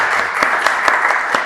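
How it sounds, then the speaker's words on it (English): An audience claps steadily as a guest is welcomed at a business breakfast event, a dense and fairly loud applause for a brief moment. "let's greet him, with a round of applause"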